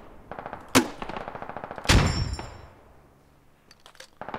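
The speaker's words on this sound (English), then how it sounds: "I'm just gonna lob grenades in this tree line." An M203 grenade launcher in the game Squad fires grenades into a tree line: two loud, sharp blasts stand out over a steady patter of distant gunfire, followed by a few fainter pops.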